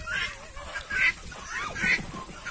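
Muscovy ducks in a backyard flock give several short nasal calls and quacks at moderate distance, while someone talks over them.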